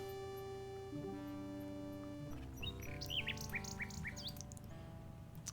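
Bird chirping in the adventure game King's Quest 6, a series of short high tweets and squawks over a sustained harmonic game music tone, with no talk.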